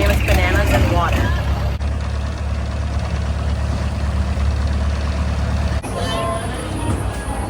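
A heavy boat engine idles at a floating market with a steady low rumble throughout, close and loud, while people talk over it.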